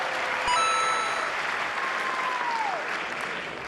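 Sustained applause fills the US Congress chamber during Netanyahu's speech, a dense, steady wash of clapping with a faint ringing tone running through it.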